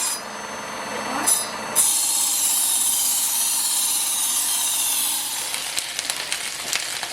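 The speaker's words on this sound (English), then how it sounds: "So we're just sauteing them lightly with some lemon pepper seasoning." Green beans sauté lightly with lemon pepper seasoning in a pan, giving a steady close hiss of sizzling with a few faint clinks and scrapes toward the end.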